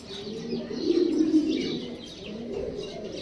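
Gorra racer pigeons cooing close by, a soft continuous throaty murmur with faint chirps over it, no talking.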